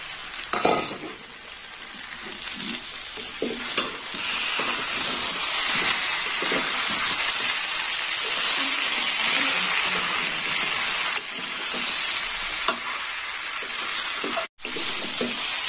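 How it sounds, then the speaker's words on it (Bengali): Fish head and potato pieces being sautéed in a pan for muri ghonto, a steady moderate sizzle with occasional spoon stirs and light clinks against the pan, no talking. "ঢেকে রাখা মাছের মুড়ো আর আলু দিয়ে আর একটু কষে নেব।"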